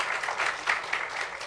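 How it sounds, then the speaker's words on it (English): Audience applause for panelists at a Womxn in STEM dinner, a steady patter of many hands clapping at moderate distance, even and sustained with slight swells, no voices over it. "Please, another round of applause for our panelists."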